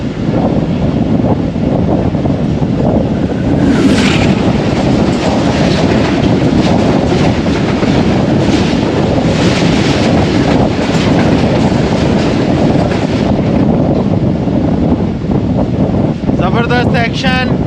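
The Allama Iqbal Express passes close by on a foggy, cold Punjab line, a loud continuous roar of wagons with rhythmic rail clatter and heavy wind buffeting, as heard from aboard a moving train.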